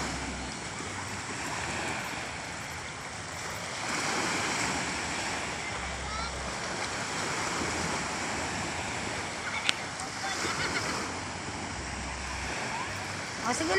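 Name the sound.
sea waves at the shore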